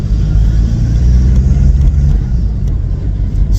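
A VW Passat B3 with a PD150 engine is driven through its gears, its engine humming low and steady with mild rises in revs, heard from inside the car with road rumble throughout.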